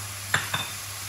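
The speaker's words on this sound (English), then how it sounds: "So all we're going to do is stir those around a little bit" Cubes are stirred in a hot frying pan, making two quick scraping swishes over a low, soft sizzle.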